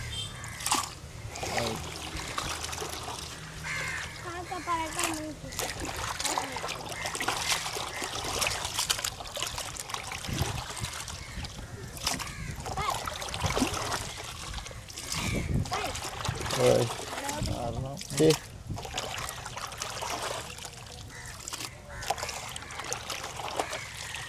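Freshly caught squid is washed by hand in water for making dried squid, with soft trickling, dribbling and splashing throughout as people talk over it.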